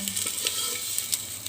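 Eggs fry in a hot pan for an egg and soya chunk curry, giving a steady, close sizzling hiss with faint crackles and no voices.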